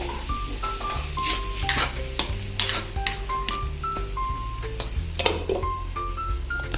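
Carrots toasting in a pan for pancit, with the chicken already in: a continuous loud sizzle broken by repeated scraping strokes of a utensil and light metallic pings against the pan, close and without talk.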